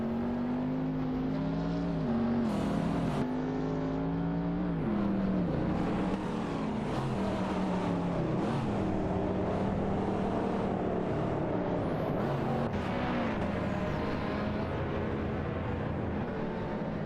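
Racing cars in a racing game, a Lexus RC F and a Ferrari Portofino among them, run close together. Several engines drone and shift pitch continuously with gear changes, steady and loud throughout.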